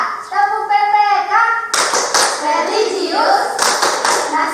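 Elementary schoolchildren in a sixth-grade Indonesian classroom perform a rhythmic clapping chant, loud close claps in quick patterned bursts mixed with children's chanting voices.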